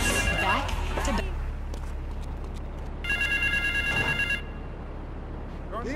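A payphone rings in GTA III with two electronic trilling bursts, one at the start and another a few seconds later, over game radio chatter and music.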